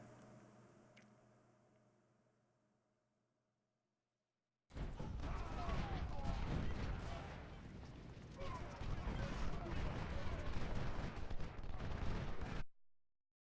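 Artillery fire in the video game Ultimate General: Civil War, Battle of Chantilly: after a quiet opening comes a loud, dense roar of booming cannon and crackling gunfire, sustained for about eight seconds before cutting off abruptly.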